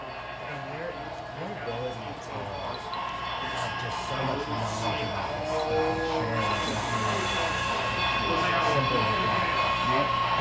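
A model train hums and rattles steadily along its track at a model railroad club, a continuous mechanical whir with faint voices murmuring in the background.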